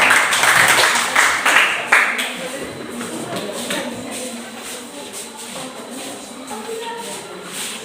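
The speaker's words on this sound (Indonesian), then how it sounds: "berikan aplaus kepada semua" Students in a classroom applaud with a burst of mixed clapping that is loudest at first and then fades into murmuring and shuffling.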